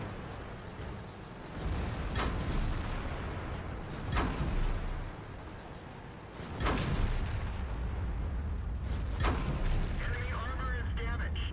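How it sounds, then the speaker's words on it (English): Shells bounce off the armor of a T57 Heavy tank in World of Tanks, landing as several heavy booming impacts spaced a couple of seconds apart over a low, constant rumble. "Listen to the sounds the new shells make when they're bouncing off this tank."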